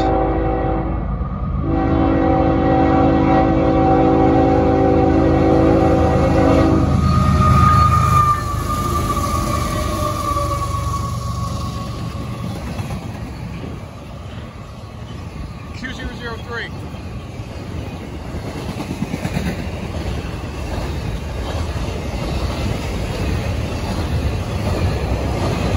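A long CSX intermodal freight train passes close by at a road crossing, its loud multi-tone horn blaring for several seconds before giving way to a steady roar of rolling cars, with a brief voice partway through.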